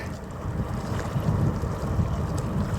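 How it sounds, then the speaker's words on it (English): Outdoor wind buffeting a camera microphone on a tripod, a steady low roar with gusty swells that runs throughout the clip. "We got a bit of wind"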